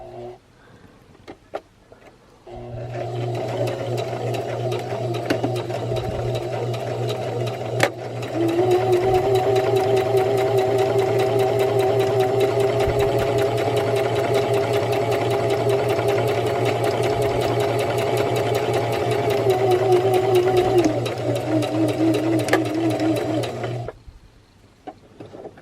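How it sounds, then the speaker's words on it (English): A sewing machine runs a zigzag stitch along fabric for a scarecrow gnome craft, a steady close mechanical whir that holds for about twenty seconds with a slight shift in pitch partway through, then stops. "I'm going to go ahead and also do a zigzag stitch to help keep it from fraying on me"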